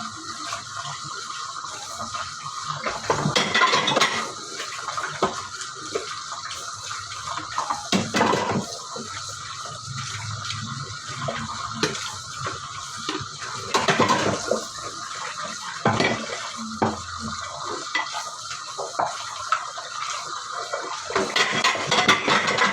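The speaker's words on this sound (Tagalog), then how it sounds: "Ilagay na natin dito sa ating lalagyanan ng ating plato." Plates clink and knock as they are set into a dish rack during dishwashing at a sink, with running water in the background and several sharper clatters spread across the clip.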